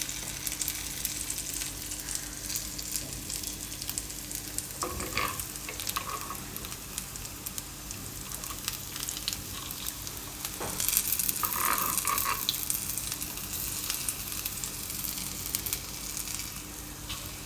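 Methi na gota frying in oil in an appe pan: a continuous close sizzle and crackle, with brief clinks and stirring scrapes and a louder burst of sizzling midway.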